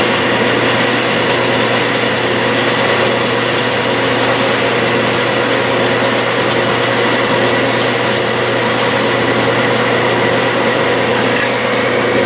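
A lathe turns down aluminum stock for a crank pin, giving a loud, continuous, steady hum and whine of the machine and cut with no talking.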